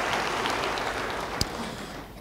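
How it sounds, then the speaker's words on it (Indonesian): A church congregation gives a short burst of dense, steady applause that fills the room, with one sharper clap standing out near the end. No one talks over it. "Yang percaya, beri tepuk tangan bagi dia."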